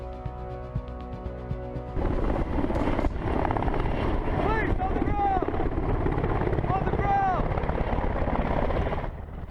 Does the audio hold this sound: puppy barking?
no